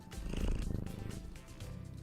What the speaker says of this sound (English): He's already purring.